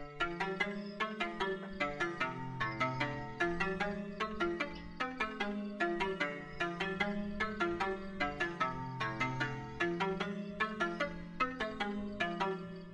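A self-made Japanese trap melody in the Miyako Bushi scale, programmed in FL Studio, plays as a bright plucked lead in quick rhythmic notes over a low sustained bass line, steady and clear with no voices.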